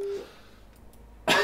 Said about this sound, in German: daher huste ich noch ein bisschen